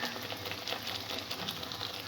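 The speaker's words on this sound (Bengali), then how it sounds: "মশলাটা যাতে ভালো করে একটু কষা হয়।" Spice paste for a prawn curry fries in hot oil with a close, busy sizzle and scrapes from stirring, rising and falling slightly. No voices come through.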